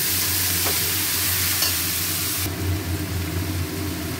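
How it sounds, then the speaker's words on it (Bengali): Boiled banana flower is stir-fried in oil, giving a dense, close sizzle with stirring scrapes over a low steady hum. "মোচাটা সেদ্ধ করে নিয়েছিলাম, এবারে এটা দিয়ে ভালো করে কষবো।"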